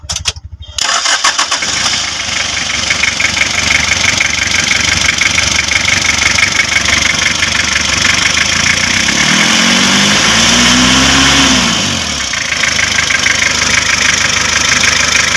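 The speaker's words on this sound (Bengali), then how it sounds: "এখন আমি আপনাদেরকে গাড়িটি স্টার্ট করে দেখাবো যে কম বাজেটের গাড়ির ইঞ্জিনটি কেমন আছে সাউন্ড কন্ডিশন কেমন হবে" An old Toyota HiAce diesel engine cranks with a brief burst, catches and settles into a loud, steady, clattering idle, with a rising and falling whine of revving partway through.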